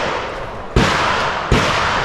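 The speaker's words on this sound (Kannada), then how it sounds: "ಇಲ್ಲಿ ಪೇ ಮಾಡಿ ಶೂಟ್ ಮಾಡ್ಬೋದು ನಿಜವಾದ ಗನ್" Two sharp, loud gunshots from real firearms at the Cu Chi Tunnels shooting range, spaced under a second apart, each cracking over a constant roar of background noise.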